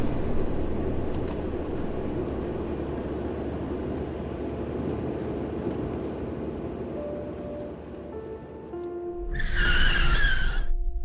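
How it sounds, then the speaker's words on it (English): A car skids with a long rising tire squeal over a steady road rumble, then ends in a sudden loud crash near the end, with no talking. "There was a car accident."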